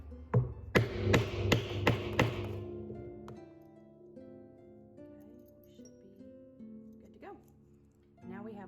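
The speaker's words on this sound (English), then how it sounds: "then I'm gonna hammer it." Five sharp hammer blows on leather over an anvil land in quick, even succession up close, then a faint ringing hum lingers with quiet movement afterward.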